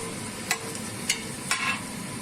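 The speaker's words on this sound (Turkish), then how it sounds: "Biberleri güzelce e, kavuruyorum." Peppers sizzle and fry in a pan, with three sharp scraping stirs breaking through the steady hiss.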